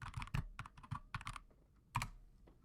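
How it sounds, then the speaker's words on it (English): Quick bursts of keystrokes on a computer keyboard, clicking in an irregular rhythm with short pauses and one sharper tap near the end, close and fairly quiet with no voices. "We can start by typing Data Studio."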